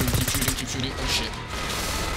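Rapid gunfire in the Call of Duty: Black Ops 6 campaign, a dense burst of repeated shots in the first second, then rumbling in-game noise with a voice talking over it.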